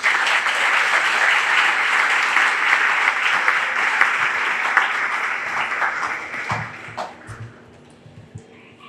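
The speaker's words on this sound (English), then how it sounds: "so give them all a round of applause" A county fair opening ceremony crowd applauds steadily and fairly loud for several seconds, then the clapping thins out and fades toward the end.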